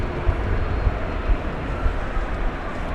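At DFW Airport, an airplane rolls past quickly on the taxiway, its engines giving off a broad, steady roar and low rumble at a moderate distance, with no talking.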